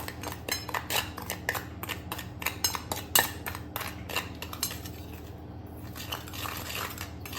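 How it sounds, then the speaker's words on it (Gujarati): Salt and red chili powder being mixed for a garnish, light clinking and scraping of a spoon against a small dish or plate, quick irregular taps close by and fairly faint, no talking. "થોડું લાલ મરચું હવે આપણે એને મિક્સ કરી લઈશું"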